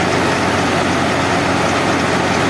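A New Holland Fiat 640 tractor engine drives a thresher, giving a steady, dense, close mechanical roar with a low throbbing hum that holds unchanged throughout and has no voices over it.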